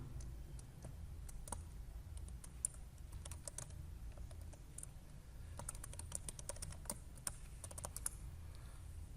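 Keystrokes on a computer keyboard while a password is entered, a steady run of quick clicks with brief pauses and denser bursts over a low room hum.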